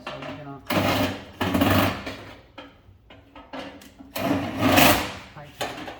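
A screw being tightened on the blower wheel of a Lennox SL280UH135V60D furnace, with bursts of whirring, rattling driver noise separated by quieter gaps and talk.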